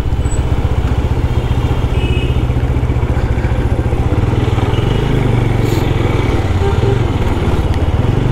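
A 250cc motorcycle engine pulls hard through first, second and third gear, its steady loud droning rumble rising in pitch with a slight shift partway through, close and continuous with no talk.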